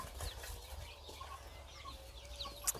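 Chickens in a backyard coop on a rural farm, with soft scattered clucks and light fowl calls over low background noise, fairly faint, and a brief sharper sound near the end.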